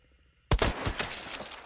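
A distant rifle shot in the game Hunt: Showdown lands a headshot, one sharp crack followed by a rolling, echoing tail, with no talk.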